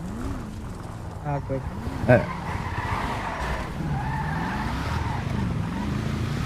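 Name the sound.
car driving and skidding in a video game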